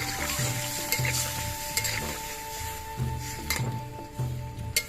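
Potatoes and peas frying in a pan with a little water added, giving a close, continuous sizzle with rhythmic stirring scrapes and light utensil clinks against the pan.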